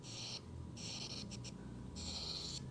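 An S Pen scratches on the screen of a Samsung Galaxy Z Fold5 fitted with a slim S Pen case, giving an artificial paper-like scratching in three short strokes with brief taps between, quiet and close.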